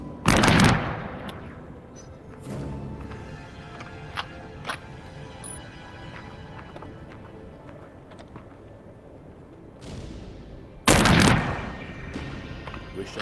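Gunfire from a weapon in the VR game The Light Brigade: two loud sharp shot bursts, one at the start and one near the end, separated by quieter clicks, mechanical handling sounds and low ambience.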